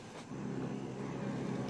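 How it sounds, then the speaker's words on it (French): Electric motorcycles in the video game Ghost Recon Breakpoint give off a steady, loud hum that rises after a short quiet start and holds evenly to the end, with no voices. "C'est des motos électriques."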